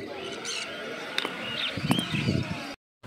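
A pair of blue conures for sale at the Uluberia bird market, giving short chirps and calls over busy background chatter and market noise.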